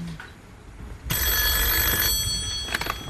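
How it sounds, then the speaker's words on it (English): A telephone rings sharply on a Deal or No Deal game show in 2006, a loud bright electronic trill that starts suddenly and lasts about two seconds against a low studio murmur. "And now the phone is going to ring."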